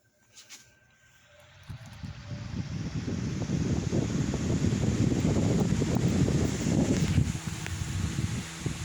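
A ceiling fan started up on its high speed setting inside a house builds from near silence into a steady, breathy whoosh of moving air with light buffeting, close to the microphone and with no talk.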